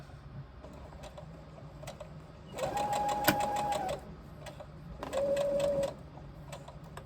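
A sewing machine stitches a crossbody bag in two quick bursts of rapid mechanical whirring, each a second or so long, separated by a quiet pause with faint handling noise.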